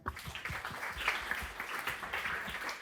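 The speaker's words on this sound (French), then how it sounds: "On peut applaudir également." A small audience at an evening talk event applauds, a faint, steady wash of many hands clapping with no one speaking.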